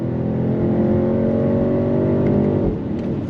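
A 2025 BMW X6 M60i sport SUV accelerates hard through its gears, with a loud, steady engine drone that climbs in pitch and breaks briefly at a quick shift near the end. No one talks.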